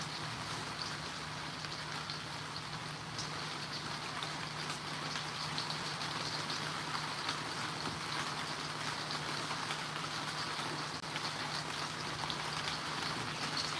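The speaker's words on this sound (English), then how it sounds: "We got rain here, so I can't take you guys out to the air compressor station because it's all wet out there." Rain falls steadily outdoors, a soft, even patter and hiss that continues unchanged throughout, fairly quiet and with nobody speaking.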